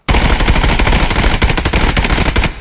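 Sustained 5.56x45 automatic fire with 318 rounds at ultimate armor in the video game Contractors Showdown, a loud, close, unbroken burst of rapid shots lasting a couple of seconds.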